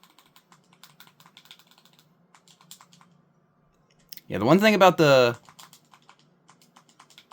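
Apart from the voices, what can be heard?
clicky game controller buttons being pressed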